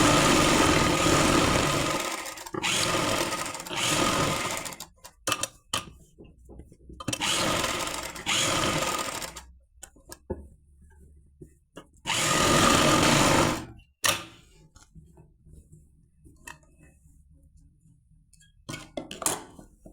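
A sewing machine stitches a lined shirt collar in several loud bursts of motor whir, each lasting a second or two, separated by pauses and quieter handling noise.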